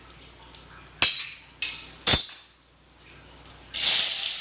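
Small onions drop into a pan of lightly roasted cumin, giving sharp bursts of sizzling and spattering with light clatter against the pan, quieting between surges and swelling again at the end.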